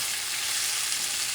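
Carrots frying in the pot for a sizzling Puerto Rican pork stew, puerco guisado, give off a loud, dense, steady sizzle close by, with no talking over it.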